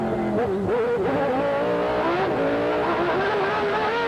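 Formula 1 car engine heard onboard at Suzuka, a loud, high continuous whine rising and falling in pitch as it revs through gear changes, dominating throughout with no talk.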